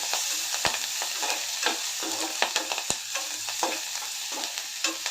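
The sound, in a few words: onion being roasted and stirred in pan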